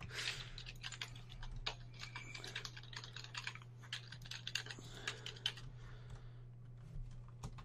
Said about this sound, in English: I thought you were going to say the person who's typing loud